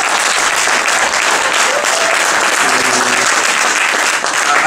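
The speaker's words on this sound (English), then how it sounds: "So can you please give Unomi no Poetic a round of applause?" Audience applause at a live poetry night in a large theatre, a thick continuous wash of clapping from a crowd, loud and steady throughout with faint murmurs underneath.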